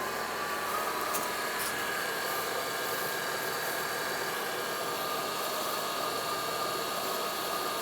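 Chevrolet Trailblazer 4.2 engine running steadily while warming up to operating temperature, heard as a faint, even hiss-like hum with no change in pace throughout.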